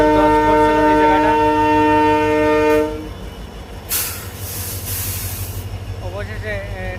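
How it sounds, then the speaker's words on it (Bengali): A train at Panchgram in the Silchar area sounds a long, loud horn blast, then rolls past nearby with a rumbling clatter of wheels and a brief burst of hiss, its noise continuing to the end. "অবশেষে ট্রেন চলাচল স্বাভাবিক হয়েছে।"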